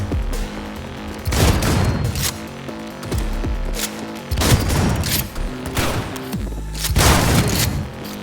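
Grenade explosions and gunfire in the video game Cyberpunk 2077: loud booming blasts about every two seconds, each with a burst of rattling shots, between short gaps.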